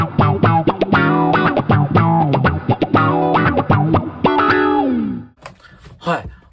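Electric guitar played through a SUMO TRON auto-wah effect, with a quick riff of plucked notes, each swept by a vocal-like filter quack, loud and upfront for about five seconds before fading to a few faint trailing sounds.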